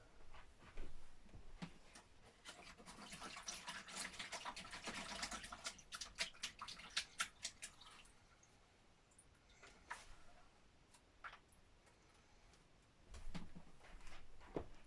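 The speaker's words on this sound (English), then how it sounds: "Right, quick rinse." Quick water rinse over a marbled piece, a faint spraying, splashing wash with scattered drips and clicks, strongest in the middle and tapering off toward the end.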